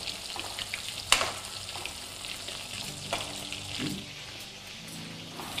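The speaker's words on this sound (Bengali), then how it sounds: "এই স্টেজে আপনারা এটাকে পাল্টে নিতে হবে, একদম ক্রিস্পি করে ফ্রাই করে নিতে হবে।" Chicken pieces for chilli chicken frying crisp in a pan, giving a moderate crackling sizzle with a sharp clack early on and a few stirring scrapes, close by and without talk.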